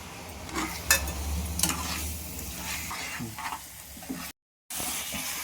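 Spicy egg curry paste coating boiled eggs sizzles in hot oil in a pan, with steady frying hiss and intermittent scraping stirs, close and fairly quiet, then a brief cut to silence.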